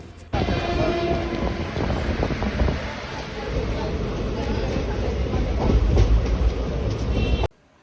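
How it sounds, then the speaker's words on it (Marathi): A passenger train, the Virar–Gholvad express leaving Boisar station, rolls along with a constant loud rumble and rattling of wheels on track, steady throughout before cutting off abruptly at the end. "इथे आता ट्रेन चालू झालेली आहे आणि आम्ही निघालो आहे आता बोईसर स्टेशनवरून."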